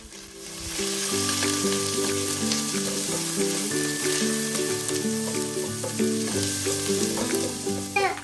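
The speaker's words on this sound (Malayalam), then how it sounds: "വെളിച്ചെണ്ണ ഒഴിച്ചിട്ട് സവോളയും ഇഞ്ചിയും വെളുത്തുള്ളിയൊക്കെ ഇട്ടു. അതൊന്ന് വഴച്ചെടുക്കാൻ പോവാണ്." Onion, ginger and garlic frying in coconut oil in a pan, a steady, loud close sizzle that rises quickly and holds for several seconds with occasional stirring clinks, no talking.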